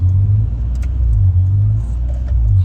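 A Honda Prelude engine idling with a low, steady rumble that swells and dips in slow surges, close and continuous.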